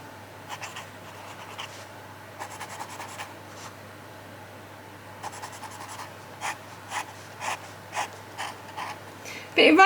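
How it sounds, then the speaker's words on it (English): A fine-nib fountain pen scratches across paper in short bursts of quiet, close scribbling, with pauses between strokes and faint breathing in the background. "So it does mean that I can test said pen out"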